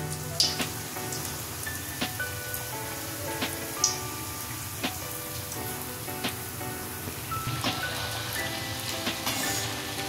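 Raw jackfruit kofta sizzling in oil over a high flame, a dense, continuous crackle like rain on a surface, close and fairly loud, with sharp scattered pops and no talking.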